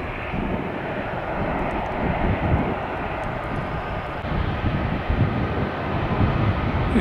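A Delta airliner arriving at an airport, its engines a continuous loud broadband roar that holds steady throughout with slight swells.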